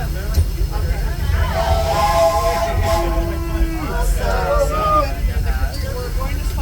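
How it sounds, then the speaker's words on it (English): The Disneyland Railroad train runs along its rails with a steady low rumble and hiss, under a voice announcing over the train. "please remain seated until the train comes to a complete stop"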